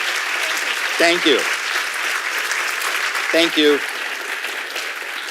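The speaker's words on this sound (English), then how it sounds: "let's give the dean a round of applause" An audience applauds the dean at a school's State of the School address, filling the room with sustained, even clapping. A voice speaks briefly twice over the applause.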